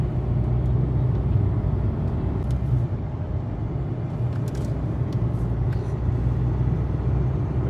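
A steady low diesel engine rumble from a 2025 Hyundai Creta automatic drones throughout, idling or revving gently with a constant deep hum and no talking.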